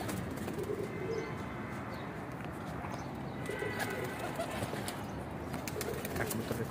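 Pigeons kept by a fancier, including paired breeding birds, coo in soft repeated low bursts against a busy close background, with a few scattered clicks and rustles around them.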